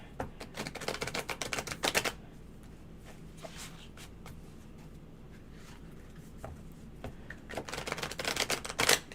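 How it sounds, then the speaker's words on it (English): Slippery tarot cards are riffled and shuffled up close in two rapid crackling bursts, one at the start and one at the end, with quieter handling and card taps in between. "The one I can't shuffle well, apparently. They're very slippery."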